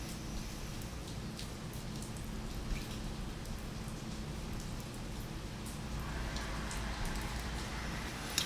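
Rain falling steadily, a soft continuous patter of drops on surfaces, faint and even, slightly heavier toward the end, with no talk.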